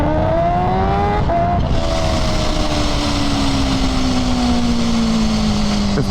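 A loud superbike engine, a Kawasaki Ninja H2 or KTM 1290 Super Duke R, revs up and accelerates, its pitch climbing then settling into a sustained high whine as it pulls away.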